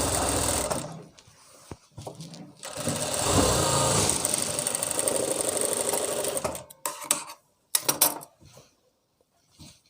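A sewing machine runs close and loud while stitching palazzo pants, a long continuous whirring run with short stops, then a few brief bursts before falling quiet.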